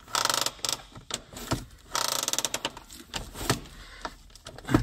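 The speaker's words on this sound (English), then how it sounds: "Let's also operate the parking brake." Car parking brake operated while checking brakes that give off a burning smell, a close run of rapid mechanical ratcheting clicks in bursts with short pauses between them, no talk.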